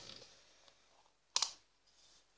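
Plastic packaging on a chocolate-scented doll cupcake toy being opened, a sharp close crinkle and snap amid faint rustling in a quiet room.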